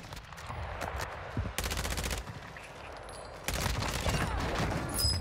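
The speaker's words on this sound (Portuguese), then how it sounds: "O barulho do som do tiro." Rapid bursts of automatic gunfire crackle loudly in several volleys with brief gaps between them in the video game Call of Duty: Warzone 2, without any talking.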